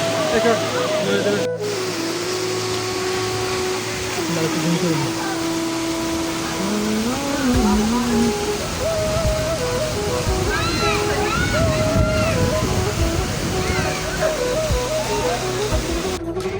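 Rupashi waterfall in Bandarban, a steady rushing wash of falling water filling the whole span, close and constant, with people talking over it.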